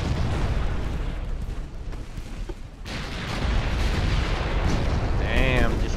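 Torpedoes from a naval strategy video game launch and explode in a continuous, dense roar of booms and blasts, with a louder swell partway through and a faint whistle near the end.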